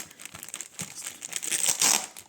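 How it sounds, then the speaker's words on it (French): Packaging crinkles and tears as small picture frames are unwrapped. The crumpling is close and continuous, and it grows louder and denser toward the end. "on va les déballer ensemble"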